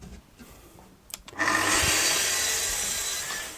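A sheet of plywood for shop cabinets is trimmed: after a few light knocks, a saw cut starts abruptly and runs as a loud, steady, rasping hiss for about two seconds.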